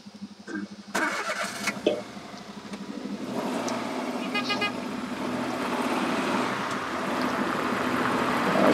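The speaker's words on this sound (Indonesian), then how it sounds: "Kalau suara mobil ini nggak habis-habis" Car sound effect for an animation: an engine starting and revving, with a short horn toot near the start, then a continuous steady motor rumble that builds slightly and keeps running to the end.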